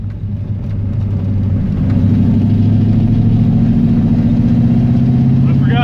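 A Ford 302 V8 car running on a lawn mower carburetor pulls away and settles into a loud, steady low rumble that builds over the first two seconds, with a voice speaking over the engine.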